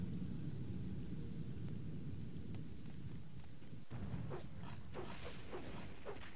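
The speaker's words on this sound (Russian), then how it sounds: "прям под грозу" Thunderstorm with rain in the video game Morrowind: steady rain hiss throughout, with a deep rolling rumble of thunder building in the second half, no voices.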